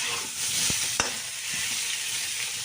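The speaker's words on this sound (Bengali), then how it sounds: "সেইভাবেই একটুখানি ওলকপিটাও ভেজে তুলে রেখে দেবো" Kohlrabi pieces fry in hot oil with a steady, close hiss and a couple of sharp taps from a utensil against the pan, alone and without talk.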